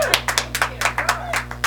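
Quick, steady clapping of hands from a talk show audience applauding a guest, sharp close claps in an even rhythm, like a small group applauding.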